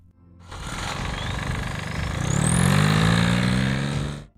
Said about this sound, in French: le son caractéristique d'un moteur diesel, c'est justement la symphonie de toutes ces vibrations